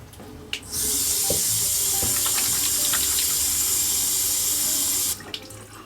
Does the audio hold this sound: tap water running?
yes